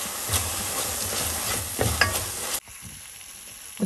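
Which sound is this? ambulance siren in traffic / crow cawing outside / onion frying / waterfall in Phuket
onion frying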